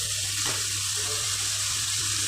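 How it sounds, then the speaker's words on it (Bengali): Spiced water poured steadily into a cooking pot of chicken biryani, a continuous close, rushing splash with a slight gurgle, loud and alone with no talk. "মশলা দেওয়া জলটা দিয়ে দিলাম।"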